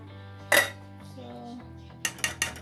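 Dishes being washed at home, with a sharp clatter of pots or cutlery early on, a quiet stretch, then several quick clinks and knocks close by. There's a soft low hum in the background.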